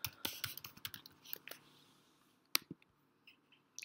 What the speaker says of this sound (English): Let's type in breaking news.